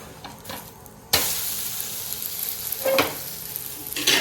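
A dosa frying in oil on a hot pan gives a steady close sizzle that jumps suddenly louder about a second in and carries on alone with a few crackling swells.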